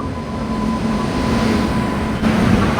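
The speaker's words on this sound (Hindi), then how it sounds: "और ये हमारी ट्रेन आ चुकी है एट लास्ट" A passenger train pulls into a station, a steady loud rumble with a faint high whine running through it, growing slightly heavier toward the end.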